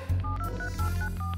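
Cartoon phone keypad beeps, a quick run of about eight short electronic tones at varied pitches in an uneven rhythm, close and clear over a low background hum, with no talk.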